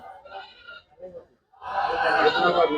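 A goat bleats a couple of times nearby at a livestock market, followed by loud, noisy background chatter and commotion.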